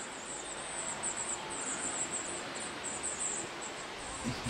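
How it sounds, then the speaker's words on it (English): A wild bird calls repeatedly in lush gardens of trees and ferns in Funchal, Madeira, its high, thin notes recurring in a steady series above a soft, constant outdoor hiss. "You hear that bird?"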